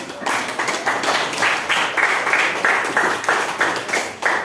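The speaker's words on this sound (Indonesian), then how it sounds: "Kita kasih aplaus ya beliau" An audience applauds at a university teacher-training session, with steady, dense hand clapping from many people, loud and continuous throughout.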